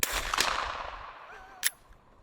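Pistol shots ring out in the video game Pragmata, two sharp cracks with a short electronic tail, the second one followed by a faint synthetic tone.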